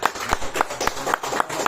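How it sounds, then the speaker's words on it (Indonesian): Audience applause for speaker Pak Gembong at a seminar, a short burst of rhythmic group clapping, close and fairly loud. "Tepuk tangan untuk"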